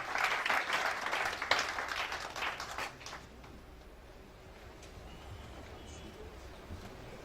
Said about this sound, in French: Shall we put our hands together?